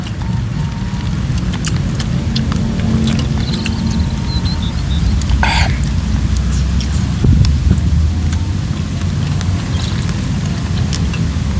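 Steady, heavy rain pours down continuously, loud and close, with a faint low rumble beneath and occasional sharper drips.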